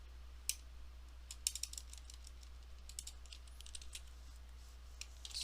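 Typing on a computer keyboard while building an Excel VBA form, sparse faint clicks and short clusters of keystrokes over a low steady hum, with no talking.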